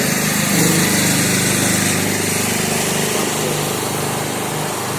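A generator runs nearby at a dental clinic, a loud steady engine drone with a buzzy high-pitched whine that holds continuously throughout, with no talking.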